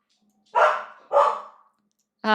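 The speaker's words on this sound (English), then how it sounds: "My dog keeps seeing another dog outside," A dog barks indoors at another dog outside, two loud sharp barks a half-second apart followed by the start of a third, close to the listener with silence between them.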